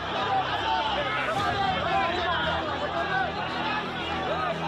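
A crowd of Hindu organisation members massed at a barricaded tomb in Fatehpur, a dense, continuous babble of many overlapping voices and shouts filling the whole stretch at close range.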